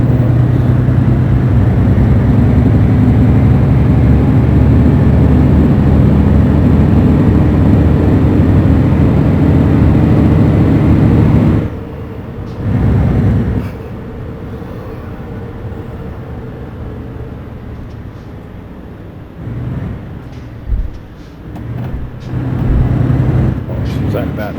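An Iveco S-Way truck in Euro Truck Simulator 2 drones with a loud, steady engine rumble that suddenly drops as the gearbox shifts, then surges and fades in uneven bursts while someone talks over it.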